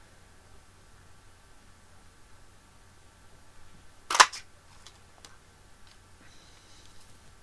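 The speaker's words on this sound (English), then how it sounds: "I'm going to use the Everyday Label Punch to punch my sentiment out" An Everyday Label Punch punches a sentiment label out of card, giving a single sharp, faint click in an otherwise quiet room.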